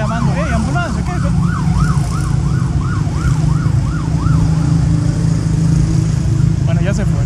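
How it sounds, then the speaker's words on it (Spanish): An ambulance siren wails in a rapid rising-and-falling pattern over heavy road engine rumble, fairly near and steady for several seconds before fading, with other traffic sounds around it. "¡Ey, ambulancia!"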